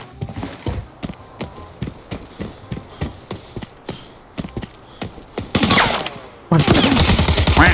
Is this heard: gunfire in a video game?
yes